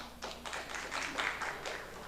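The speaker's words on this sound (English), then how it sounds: "If you believe it was a tie, go ahead and clap." Sparse clapping from a debate audience voting for a tie, a few scattered hands in uneven bursts, modest and fairly near, with no voices.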